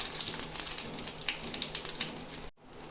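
Whole cumin seeds sizzling in hot oil while cooking a Bengali fish curry, a soft, steady crackle with faint scattered pops that cuts off abruptly near the end.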